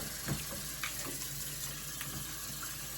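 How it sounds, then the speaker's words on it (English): Cold tap water runs steadily over cut potatoes in a sink, rinsing off starch while making French fries from scratch, a continuous close splashing hiss with no talking. "Gotta wash them with cold water now."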